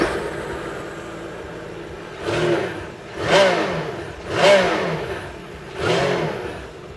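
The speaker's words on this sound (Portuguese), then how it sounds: "agora nós vamos dar uma breve partida para vocês verem o que, que esse motor aqui clama e reclama" A 2024 Sea-Doo RXP-X 325 jet ski engine runs out of water, idling with a rough hum before four sharp revs that surge and drop back at roughly one-second intervals, loud and close.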